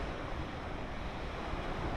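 Ocean waves wash steadily onto Onslow Beach in Australia, a continuous broadband surf roar with some wind noise over the microphone and no voices.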